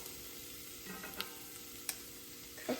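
Garlic frying in a pan, a soft, steady sizzle heard close, with a few small clicks and a light scrape of stirring near the end.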